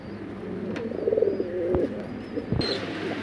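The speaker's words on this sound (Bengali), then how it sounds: "আমরা হাউস পিজন দেখতেছি এখানে ভাইয়ের কাছে" House pigeons in a cage coo softly and repeatedly at close range, with low murmuring calls over a faint background hum and a few sharp knocks.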